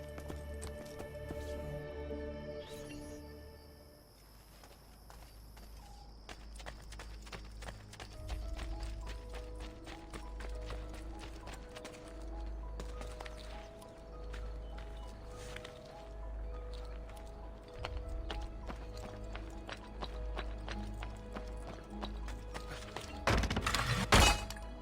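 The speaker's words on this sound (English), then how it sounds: "I can no longer keep up with the horses." Horses' hooves clip-clop in a steady, rapid rhythm through an Assassin's Creed: Brotherhood game scene, layered over continuous orchestral music, with a louder burst near the end.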